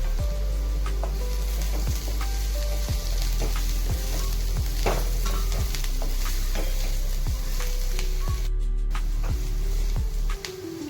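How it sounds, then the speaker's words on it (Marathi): Onion, chili and garlic sauté in a pan with turmeric, asafoetida and crushed peanut powder, a steady loud sizzle with repeated scraping stirs at a regular pace, close and without talk. "आता आपण यामध्ये हळद टाकत आहोत, हिंग टाकत आहोत आणि शेंगदाण्याचा कूट आणि परतून घेत आहोत."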